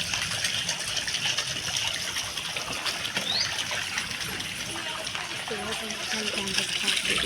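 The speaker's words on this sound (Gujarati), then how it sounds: "ને આ અમે જળ સંગ્રહ કરી રહ્યા વરસાદનું." Rainwater pours steadily into metal vessels set out to collect it, a constant close trickling and splashing with the rain's wash behind. Voices murmur faintly under the water.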